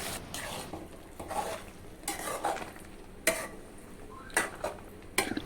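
A spoon stirs bottle gourd dal into browned fried onions in a pan, with soft scraping swirls, a faint sizzle and a few sharp clinks against the metal, close up and without speech.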